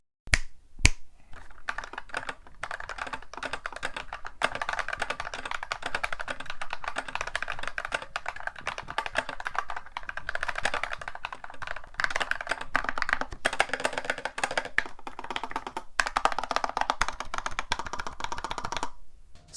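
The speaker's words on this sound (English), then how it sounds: "Typing on it feels great, and here is a stock sound test." Fast, steady typing on a budget mechanical keyboard with stock switches and keycaps, dense clacky keystrokes close up for nearly twenty seconds, with no talking.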